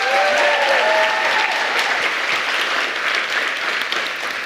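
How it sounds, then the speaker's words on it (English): An audience at a panel discussion bursts into warm applause, a thick, continuous roar of many hands clapping, loud and close at first with a brief whoop, then tapering slightly over several seconds. "One round of applause before we get started for this panel."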